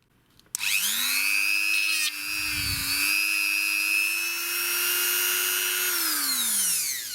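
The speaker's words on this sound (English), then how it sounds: "I think we ought to try the one of the buffing wheels and buffing compound" DrillPro die grinder fitted with a buffing wheel and buffing compound, spinning up with a sharp start, holding a steady high whine for several seconds, then winding down, close and loud.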